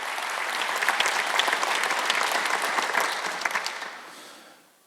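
A church congregation at a Sunday worship service breaks into sustained applause, a dense wash of many hands clapping that holds steady for about four seconds and then fades out.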